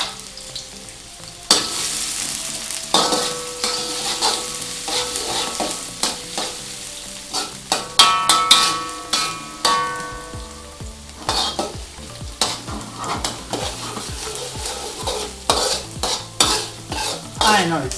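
Garlic sizzles in hot oil while a utensil scrapes and clatters against the pot, with repeated stirring strokes close up, no voices.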